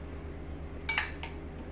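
Rice being served into a bowl for a taco grain bowl, a quiet scrape followed by two sharp clinks of a utensil against the dish, alone in a hushed kitchen.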